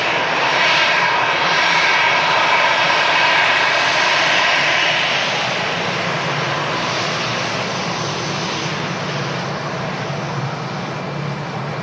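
An aircraft in from Reykjavik at Manchester Airport sends a loud, sustained jet roar from fairly close that swells and then eases slightly as it passes, with no talking.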